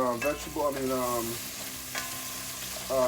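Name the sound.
coconut dumplings simmering in sauce in a pan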